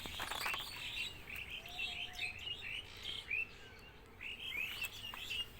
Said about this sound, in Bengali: পাখির ডাকগুলো শুনতে পাচ্ছেন কিনা?